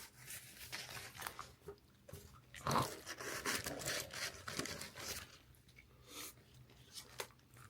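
Food being eaten up close, with loud irregular crunches and chewing over several seconds and no talking.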